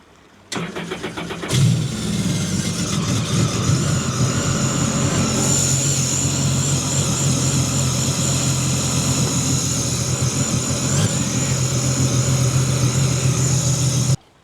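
Two new mini jet boat engines on a TCM Titan 12-foot jet boat crank and fire up, then settle into a steady, loud idle that runs continuously and close by.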